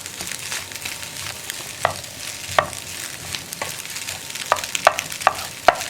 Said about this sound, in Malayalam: നന്നായിട്ട് മുട്ടയൊന്ന് ഡ്രൈ ആയി കുക്കായി വരണം